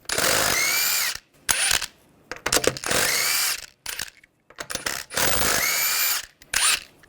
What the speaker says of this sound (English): use a 21mm socket, take the lug nuts off